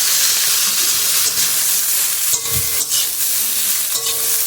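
Freshly washed roselle leaves hit a hot pan of tempered spices, bursting into a loud, continuous close sizzle and steamy hiss, with a few stirring scrapes along the way.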